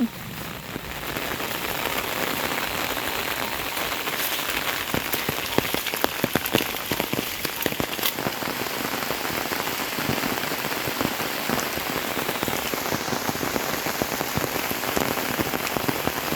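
Steady, loud rain pours outdoors throughout, a dense continuous hiss with scattered sharper drops, falling while cattle are grazed, with no other sound standing out.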